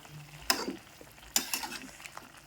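A spoon stirs ground peanut powder into a green chilli curry in a pan, giving two or three quiet scraping strokes over a faint simmer.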